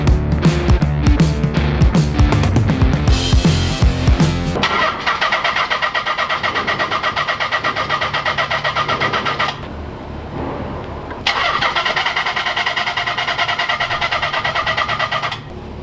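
A grandpa-owned Nissan 300ZX, previously out of gas, cranks with a rapid rhythmic starter chatter, then fires and settles into a steady, close idle that dips briefly before the revs pick back up.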